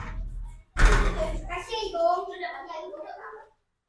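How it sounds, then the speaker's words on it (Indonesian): A door swings shut with one sharp, close thud inside a crowded Islamic boarding school room, followed by children's voices chattering. "Igung, pintu ditutup."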